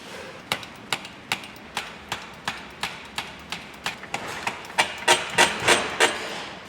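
Ford Mondeo Mk5 front shock absorber spring being tightened in a spring compressor, a steady series of about fifteen sharp metallic clacks close by, speeding up and growing louder toward the end, with no talking.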